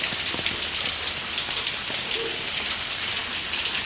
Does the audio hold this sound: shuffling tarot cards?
no